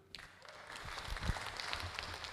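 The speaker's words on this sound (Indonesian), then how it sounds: "Oke, tepuk tangan dulu." Seminar audience breaks into applause that swells from quiet into a steady patter of clapping, fairly faint and distant.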